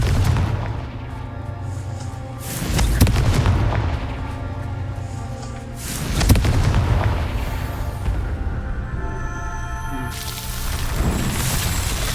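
Confringo fire spells exploding in the Hogwarts Legacy game, several heavy booming blasts spaced a few seconds apart over a dense, rumbling battle backdrop.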